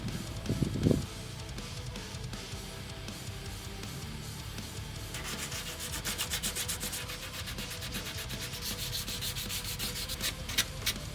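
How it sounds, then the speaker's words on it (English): Wooden cabinet legs are sanded steadily by hand, a soft continuous scratchy rubbing that speeds into quicker strokes halfway through, close up and with no talking. "Sanding the legs took way longer than I'd like you to know."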